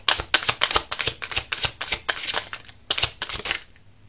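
A tarot deck handled close up during a card reading: a quick run of crisp riffling snaps and flicks, about a dozen sharp bursts in steady rhythm before trailing off into quiet.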